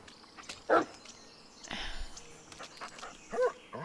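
Dog in the Blair Witch video game giving two short, sharp barks spaced a few seconds apart, with soft rustling and ambient noise between them.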